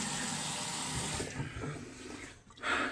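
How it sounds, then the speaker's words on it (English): Water runs from a sink tap in a steady rushing stream as someone rinses off after shaving, changing tone partway through and briefly cutting out before a final splash. "Let me get rinsed off here."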